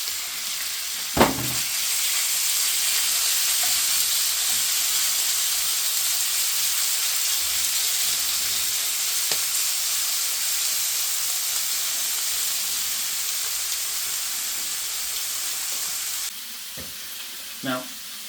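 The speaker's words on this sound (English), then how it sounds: "the chicken cooking. Oil spray test. Sizzle, sizzle." Chicken sizzles steadily in hot oil in a pan, a loud, continuous bright hiss that runs almost unbroken, with a couple of brief clatters and a slight drop in level near the end.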